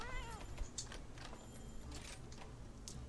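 A pet cat lets out a faint wavering meow at the start, followed by soft clicks and light rustling, quiet and close in an otherwise calm room.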